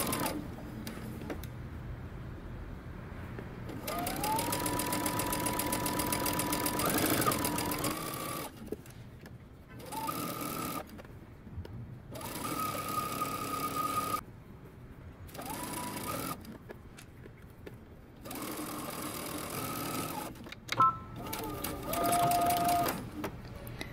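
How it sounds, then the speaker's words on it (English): Sewing machine stitching a jumpsuit seam in repeated runs of rapid mechanical whirring, separated by short pauses, with soft tonal hums appearing during some runs; close and fairly quiet. "now we're going to stitch across the top using 5/8 of an inch seam allowance"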